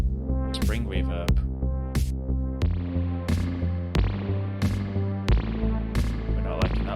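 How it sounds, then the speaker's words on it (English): Electronic drum pattern with spring reverb added, punchy hits repeating in a steady groove over sustained tonal pads, each strike trailing a short metallic ring. "let's add some reverb to these drums to make them feel a bit nicer. Spring reverb."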